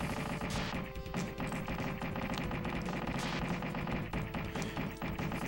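Rapid gunfire from the SNES game Super Earth Defense Force, played on real hardware, shooting down missiles: dense, continuous machine-gun bursts with blasts layered over game music, loud and unbroken throughout.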